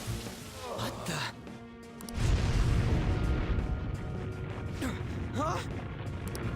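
A sudden heavy explosion rumbles in Persona 5, cutting in partway through and sustaining a dense, loud low roar under game character dialogue and music.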